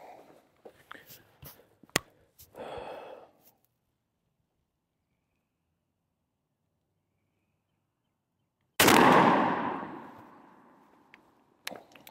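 A 20 gauge shotgun fires a single turkey load outdoors, one loud close blast with a long decaying echo, following soft talk and rustling and a long stretch of silence.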